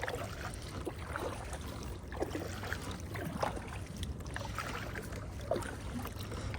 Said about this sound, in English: so just gonna take a quick paddle over there, guys.